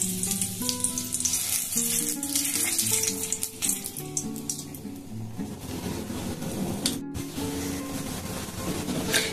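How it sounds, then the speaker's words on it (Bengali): A whole bay leaf and a split chili fry in hot oil, giving a loud, continuous sizzle and crackle that fades somewhat toward the end, with a few clinks of a utensil and no voices. "প্রথমে আমি তেলে দেব একটা গোটা তেজপাতা আর একটা লঙ্কাকে"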